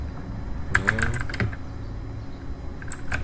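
Keystrokes on a computer keyboard entering a network switch command: a quick burst of clicks around the first second and a half, then a pause before a few more taps near the end, over a low steady room hum.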